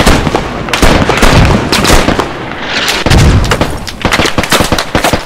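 A mortar barrage in the video game Squad fires and explodes, a loud, dense run of booms and cracks that overlap in rapid bursts, close and continuous.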